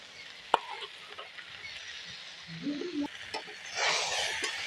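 Ginger and dry chilli paste are stirred in a frying pan, with a low sizzle, a sharp clink of the utensil early on and scraping stirs that swell toward the end.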